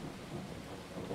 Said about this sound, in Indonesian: Wah, hujan lagi. Males dah hujan. Badai, guys, badai.